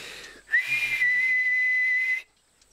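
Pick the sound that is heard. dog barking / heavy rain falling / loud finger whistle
loud finger whistle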